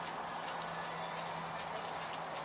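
Horse trotting in an arena during a warm-up, with soft repeated hoof beats under steady broadband noise and a low hum, fairly even and moderately distant.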